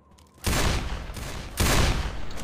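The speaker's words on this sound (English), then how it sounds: "I love having a magnum." A magnum pistol in Left 4 Dead 2 fires two heavy booming shots about a second apart, each followed by a long, loud reverberant tail.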